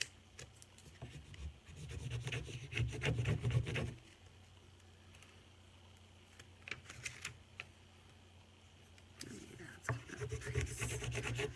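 A transfer rubbed onto a wooden picture holder, brisk scratchy rubbing strokes in two bursts separated by a quieter stretch, close and moderately loud.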